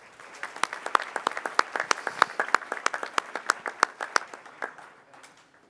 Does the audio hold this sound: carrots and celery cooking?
no